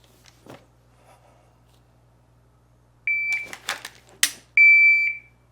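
A shooting par timer set to 1.5 seconds at a firearm training range gives a sharp electronic start beep, then a quick burst of close, loud gunshots, and a second long beep ends the run.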